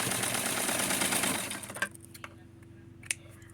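A sewing machine stitching the edges of a dress runs in a steady close rapid whir for under two seconds, then stops, followed by a few light clicks and taps.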